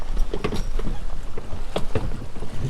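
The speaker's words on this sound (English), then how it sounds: "Wind's picking up." Wind picks up over a fishing dock on a lake, a steady rushing gust noise buffeting the microphone, with faint water lapping and small knocks nearby.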